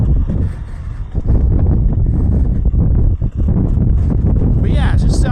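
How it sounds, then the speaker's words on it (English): Outdoor wind roars and buffets the microphone at a dirt bike beta test day, a constant loud rushing noise heard under someone talking. "It is getting windy out here."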